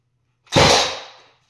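A single sharp, loud bang from a Milwaukee M18 Fuel 18-gauge cordless nailer, with a brief hissing tail that fades within a second.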